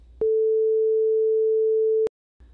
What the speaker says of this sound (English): we have the sine wave, being the purest and simplest, with basically only its fundamental tone being heard